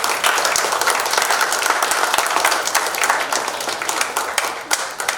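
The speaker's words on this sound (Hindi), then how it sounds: "ताली मारो" A crowd claps steadily at a birthday cake-cutting celebration, dense and lively applause that carries on without pause, with a few voices faintly underneath.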